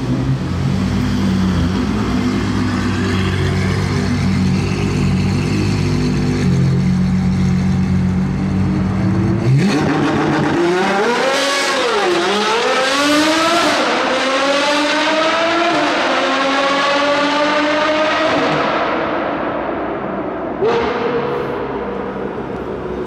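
A Ferrari Purosangue idles with a deep rumble, then launches hard, its engine rising and falling through rapid revving sweeps and gear changes as it pulls away, loud and close before fading into the distance.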